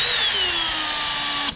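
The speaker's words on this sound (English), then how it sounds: "I put it on a low setting on the drill motor" A DeWalt drill on its slow setting, turning a cobalt bit into hard metal while fitting locking drawer slides, makes a steady high whine for about a second and a half before cutting off.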